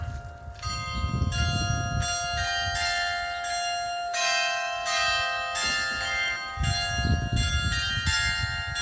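Town hall bells ring out a melody of clear, sustained tones in a changing sequence, loud and resonant, with faint outdoor background noise and no talking.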